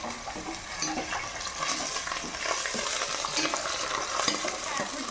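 Tomato pieces dropped into hot oil for a fish curry, sizzling and crackling steadily with light stirring scrapes, close and continuous throughout.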